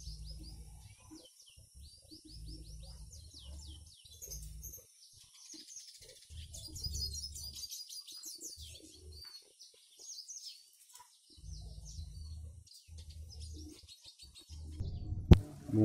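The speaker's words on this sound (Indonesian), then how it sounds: "warga penyuka berbagai macam jenis burung yang dipeliharanya, sampai ratusan jenis burung dipelihara ini oleh Bang Didin" Many kinds of pet birds kept by the hundred at a bird keeper's home in a village at the foot of a mountain chirp and twitter, with soft rhythmic dove-like cooing underneath, steady and fairly close, without talk.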